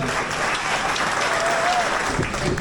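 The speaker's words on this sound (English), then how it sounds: "Give them all around of applause again, please" A crowd at a Jeep trail group dinner gives a dense, continuous round of applause that stays even throughout at moderate loudness.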